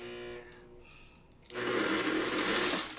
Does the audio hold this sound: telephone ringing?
no